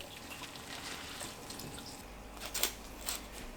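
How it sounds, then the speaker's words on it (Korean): Blanched chives squeezed by hand to wring out the water: a faint, close dribble and a few soft drips over a quiet background, with a brief splashy trickle near the end. "부추 물기를 깍 짜냅니다."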